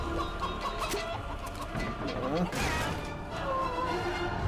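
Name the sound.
chicken clucking in video game Fable 3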